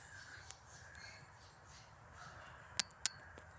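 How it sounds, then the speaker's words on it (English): Two sharp bird squawks ring out close together near the end, with a single fainter call earlier, over quiet outdoor background noise. "some birds over there just not happy for whatever reason"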